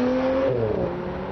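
A Porsche Macan's 2.9-litre twin-turbo V6 revs briefly and close by, its smooth engine note rising and then easing off over little more than a second, with no voices.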